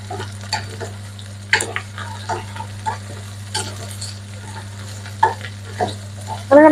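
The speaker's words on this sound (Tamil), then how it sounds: "இது நல்லா இந்த எண்ணெயில் கிளறி வதங்க விட்டு கொள்ளுவோம்" Soya meat is stirred and fried in oil, with repeated scraping and clinking strokes of a spoon against the pan over a low, steady sizzle and a background hum.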